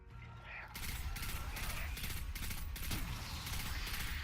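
Rapid, repeated weapon fire from the Destiny 2 video game rattles on continuously at close range, a dense mechanical stream of shots with no pauses.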